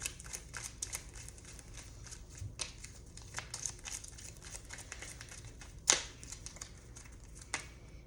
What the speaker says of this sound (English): So I'm going to shuffle my discard pile.